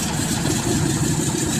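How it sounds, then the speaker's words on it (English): A World War II C-47 aircraft's radial engine starting up after ten years idle, a loud, steady low rumble with a rough, throbbing texture running continuously and close by, with no voices. "The radial engine is nothing like what we normally see these days."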